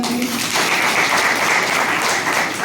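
A church congregation claps in a steady, dense burst of applause that holds at an even volume from start to finish.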